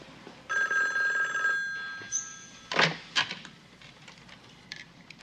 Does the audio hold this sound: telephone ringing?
yes